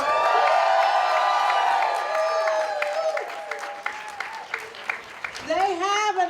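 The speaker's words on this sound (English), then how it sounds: "let's lift another yell and an applaud for the folks from the Palestinian American Community Center" Outdoor crowd at a peace rally for Palestine applauds and yells, cheering fading as a voice talks over it, with a tonal shout or whoop rising near the end.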